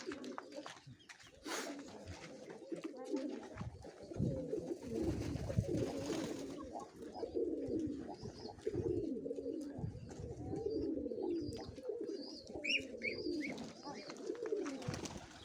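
Mykolaiv pigeons coo steadily nearby in low, rhythmic, throaty phrases that repeat throughout, with some faint chirps and rustling mixed in.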